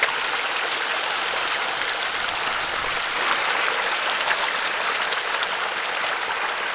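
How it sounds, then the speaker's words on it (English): A small creek near Bear Paw Lake in the Grand Tetons babbles with a steady, close trickle and splash of running water, even throughout with no talking. "There's a little creek here."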